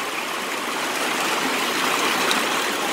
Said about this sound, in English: it can't keep up with the rainfall. That's a lot of rain.